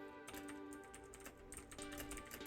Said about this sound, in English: Now let's try typing something. For example, this text I am typing right now